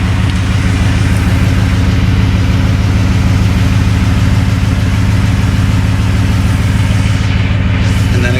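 Ford F150 V8 with a CGS aftermarket exhaust idles steadily, a deep, even rumble close to the pipes that holds throughout with no voices.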